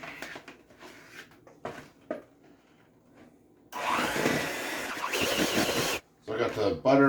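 An electric mixer creams butter and cream cheese in a bowl, running loud and steady for about two seconds before stopping abruptly and briefly restarting, with a person talking before it starts.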